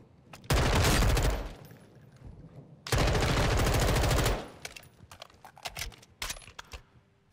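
Sustained automatic gunfire in Modern Warfare 2 comes in two long, loud, close bursts of rapid shots, followed by scattered single shots and clatter.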